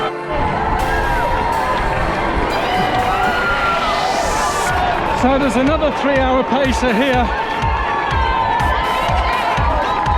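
Roaring crowd lining Tower Bridge during the London Marathon, dense cheering and shouting close by with runners' footsteps passing; a voice talks over the noise.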